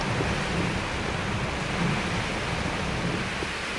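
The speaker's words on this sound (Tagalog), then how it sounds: "Buong umagang malakas ang ulan at hangin sa Tuguegarao City dahil sa bagyong Nika." Heavy typhoon rain and gusting wind lash Tuguegarao City during Typhoon Nika, a dense, steady roar of downpour with rumbling low gusts throughout, loud and close with no voices.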